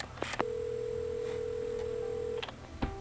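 A phone in the video game Assemble With Care sounds a long steady electronic tone after a couple of quick beeps, fairly quiet, ending in short clicks; no speech.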